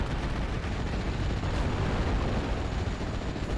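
Anti-aircraft guns firing in the WWII strategy game Steel Division: Normandy 44, a continuous rumbling wash of distant booming bursts blended into dense, steady noise with no clear gaps.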